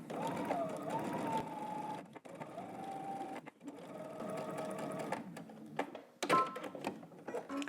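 Close by, a sewing machine runs in bursts to understitch along a fly seam edge, with several short stops and restarts and a little clatter toward the end.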